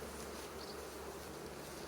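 Steady, close buzzing of many honeybees droning together around a hive, with no voices.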